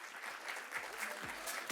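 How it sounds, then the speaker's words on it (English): An audience at a product launch event gives brief, faint applause, soft scattered clapping that sounds distant and thin throughout the short stretch. "A round of applause, guys."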